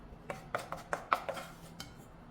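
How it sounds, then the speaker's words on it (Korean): A rice paddle scrapes and taps cooked rice into a bowl for bibimbap, a series of soft, light clinks and knocks at an uneven pace, quiet and close, with no talking. "밥을 잘 털어서, 자, 전량 그릇에 담아 보도록 하겠습니다."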